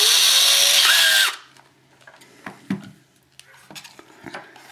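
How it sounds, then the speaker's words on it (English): A power drill with a length of piano wire chucked in it whines loudly and steadily for just over a second, then stops, followed by scattered light metallic clinks and handling sounds. "I'm going to chuck that up in my drill."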